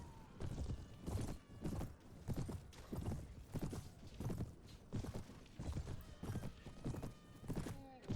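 Rhythmic clip-clop of hooves drumming steadily and fairly loud, with faint whinnying in the mix, as horses gallop together in the video game Mount & Blade.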